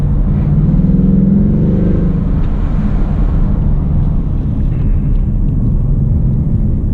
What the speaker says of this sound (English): It's so easy to do a burnout.